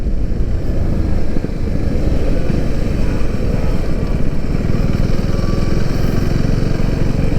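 Motorcycle exhaust drones steadily while riding on a patchy road, a loud, continuous engine rumble with wind noise, no talking over it.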